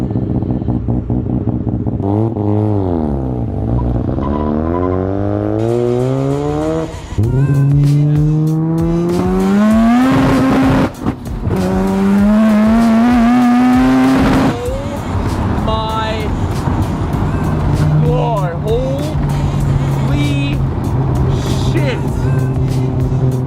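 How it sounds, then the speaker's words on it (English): A loud Mazda FD RX-7 engine revs up and down in rising and falling sweeps, roaring close by with brief tire-like squeals and voices mixed in. "it's crazy to me how loud that idle is"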